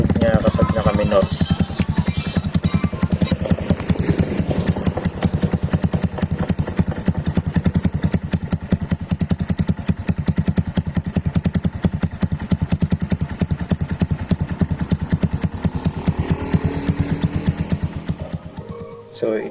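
A Honda Sniper MX 135 motorcycle with a Charama exhaust idles close by, giving a steady, loud, low-pitched rapid putter that runs evenly for nearly twenty seconds before cutting off at the end.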